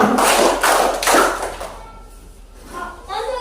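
A sixth-grade classroom doing the 'tepuk 3' clapping routine, three sharp rhythmic group claps in quick succession, then quieter room noise with a voice near the end.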